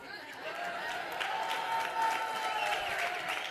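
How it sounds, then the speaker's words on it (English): An audience at a business talk on scaling applauds in a steady, dense wash of clapping that holds at an even level throughout, with a faint murmur of crowd noise mixed in. "Let's first give a round of applause to New World Title, David Kurz as well, please."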